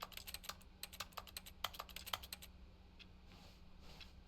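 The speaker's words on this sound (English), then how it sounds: "Like it does the clicky sound of a keyboard." Rapid keyboard clicks from The Stanley Parable video game come in a quick, crisp run of close keystrokes that stops midway, followed by a few softer scattered clicks over a quiet background.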